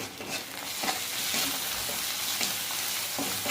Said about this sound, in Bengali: একটু কষাতে হবে ভালো করে